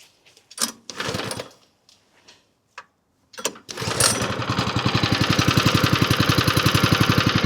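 Ride-on lawn mower driven across a lawn with its blades disengaged: after a few short sputtering bursts, the engine settles into a loud, steady, fast-pulsing drone that runs to the end, close by, with no voices.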